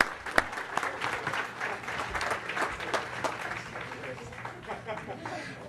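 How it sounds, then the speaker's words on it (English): A school board meeting audience claps for student mathletes in a sustained round of applause that swells early and then tapers, with voices murmuring underneath. "Let's give them one more big round of applause."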